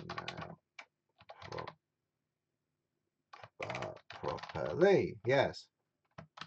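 Someone touch types on a computer keyboard, making a few scattered soft clicks between and under spoken phrases.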